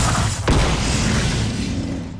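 A mirror is destroyed in The Last Guardian with a loud, sustained rumbling crash and a sharp impact near the start, filling the whole moment.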